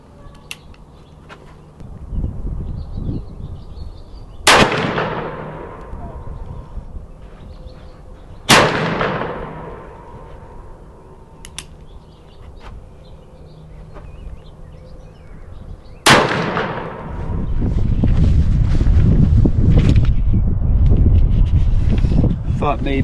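A Ruger .44 Magnum Super Blackhawk revolver firing 240-grain loads outdoors gives three loud, sharp reports spaced several seconds apart, each with a ringing decay, over wind noise and faint voices.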